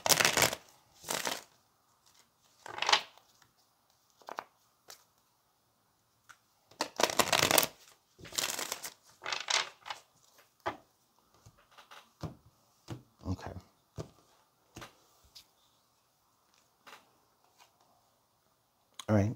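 Tarot cards being shuffled in short crisp riffling bursts, repeated many times with pauses between, close and fairly loud, alongside a person speaking intermittently.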